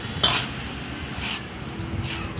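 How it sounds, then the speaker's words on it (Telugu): Rice being mixed with turmeric and oil in a metal vessel, a few clinks of utensil against the pot followed by soft scraping and stirring, close and without talk. "బియ్యంలో పసుపు వేసి, పసుపులో నూనె వేసి బియ్యంలో పోసి కలపాలి"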